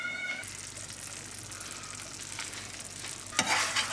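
A lahmacun flatbread fries in a pan on its second side, giving a steady, moderate sizzle with a brief louder crackle near the end.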